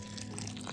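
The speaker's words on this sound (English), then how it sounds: "So I am using lukewarm tap water to let it down." Lukewarm tap water is poured to wet seed-starting soil, giving a brief, soft splashing trickle with no voices.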